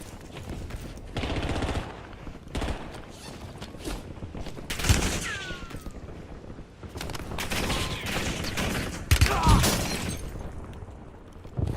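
Video game gunfire fills the scene with irregular machine-gun bursts and scattered shots, some nearer and louder than others, along with sharp impacts and a whistling sound.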